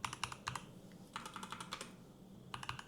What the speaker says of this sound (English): Out of the gaming keyboards, I like the typing experience on this one the best.